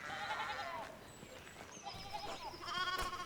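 Sheep bleat in the video game Pentiment, with a few wavering calls, one early and more near the end, heard faintly over a quiet background.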